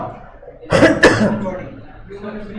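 A man coughs twice in quick succession during a classroom-style law lecture, close and sharp, with faint speech-like murmur before and after.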